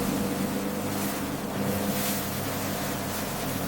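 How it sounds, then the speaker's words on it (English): AI-generated audio of a jet ski hitting water, a steady loud wash of engine roar and spray that swells slightly as the craft slaps the surface. "every time that the jet ski is going to the water,"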